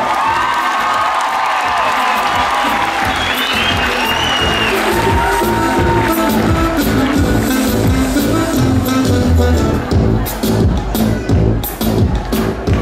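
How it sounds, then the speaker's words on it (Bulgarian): A crowd applauds and cheers for eleven contestants at the Rose Queen beauty pageant in Karlovo, Bulgaria. The clapping is loud and sustained, with shouts and whoops mixed in, and it thins toward the end. "подкрепете с бурни аплодисменти нашите 11 претендентки за короната"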